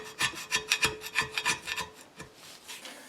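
A scraper grinds old gasket material off the head of a Farmall 560 diesel tractor engine in a quick run of rhythmic rasping strokes that slow and fade near the end.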